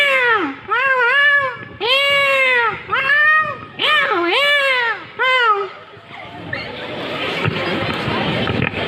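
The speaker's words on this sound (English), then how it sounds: "When two cats fight." Two cats yowl and screech at each other in repeated drawn-out wails, ending in a burst of hissing and scuffling.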